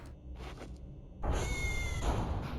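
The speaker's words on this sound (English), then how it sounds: "I wonder if that's the actual, like, canonical meow of Maxwell the cat." Maxwell the cat from the game Voices of the Void gives a short, quiet meow over steady low game ambience and a faint electronic hum.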